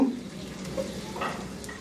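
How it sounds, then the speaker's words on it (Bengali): Finely chopped medium onion dropped into leftover frying oil in a saucepan, giving a soft, steady sizzle with light stirring, close and alone. "তেলটুকু নিয়ে ওর মধ্যে একটা মাঝারি সাইজের পেঁয়াজ কুচি কুচি কেটে রাখছি, ওইটা দিব।"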